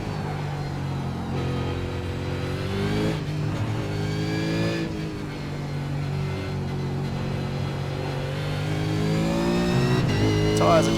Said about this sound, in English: Random burst of wheel spin.